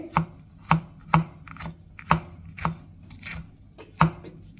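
A sharp knife chops onion on a board for a fish peera dish: about ten crisp, fairly regular thuds, close and clear, with faint crackle between strokes and no voices.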